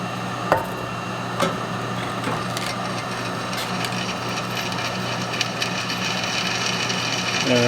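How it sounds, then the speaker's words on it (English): A slow-running drill press grinds into a hard steel wrench, a steady low mechanical whir with scattered faint clicks and taps, close by with no talk. "We got the drill press going as slow as it'll go."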